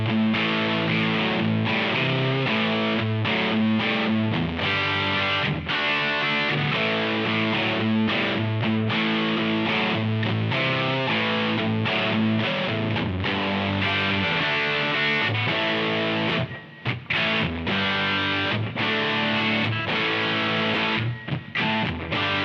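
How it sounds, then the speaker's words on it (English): Distorted electric guitar played through a Behringer X V-Amp (LX1) modeling amp set to a classic 70s-style tone, loud and continuous with sustained chords and riffs and a couple of brief breaks near the end. "There's that classic 70s style, guitar."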